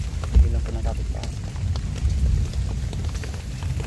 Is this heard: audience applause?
no